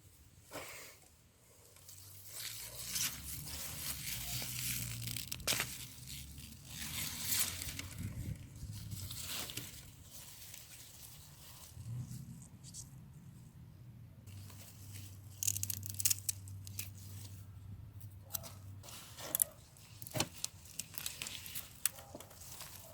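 Harvested beets having their leafy tops cut off and cleaned outdoors, heard as close, quiet tearing, snapping and rustling of stems and leaves in irregular bursts, with faint low background hum and no talk.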